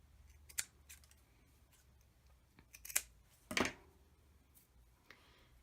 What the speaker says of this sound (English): I'm just going to trim these two ends off and then trim the bottom.